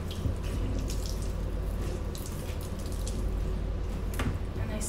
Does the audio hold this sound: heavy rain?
no